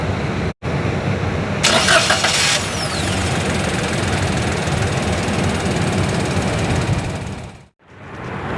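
A 2014 Daihatsu Ayla 1.0 X engine cranks and fires up with a rising roar, then settles into a steady, close idle that runs until the engine cuts off near the end.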